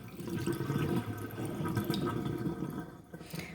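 Water from a tap runs steadily into a bowl while bean sprouts are washed, a soft continuous splashing and trickling at low level, ending in a brief lull before resuming.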